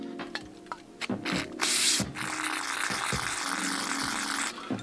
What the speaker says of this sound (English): spray them with a little bit of brake cleaner